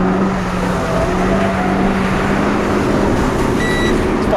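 Interior of a 2015 Renault Clio 200 sport hatchback being driven, a steady engine drone and road roar filling the cabin throughout with no talk.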